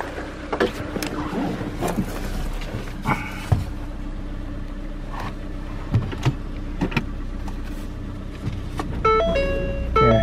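A 2014 Ford Fiesta 1.6 idles steadily through a transmission check, a low continuous engine hum with scattered clicks and knocks from the cabin controls and a brief whirring motor near the end.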